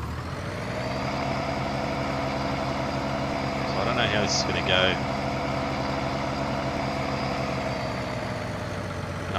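A loud pickup truck engine idles in Farming Simulator 19, a steady low rumble throughout while someone talks over it briefly.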